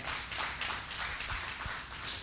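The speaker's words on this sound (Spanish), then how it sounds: "Dale un aplauso al Señor." A church congregation applauding during a sermon, a dense crowd of clapping that holds steady at moderate volume.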